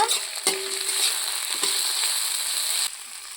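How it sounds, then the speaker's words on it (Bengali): Ginger, cumin and garlic paste being stirred together in a frying pan, a steady close sizzle broken by two sharp spatula knocks against the pan, the hiss dropping away abruptly near the end. "সব কিছু একসাথে ভালো করে নাড়িয়ে নেব।"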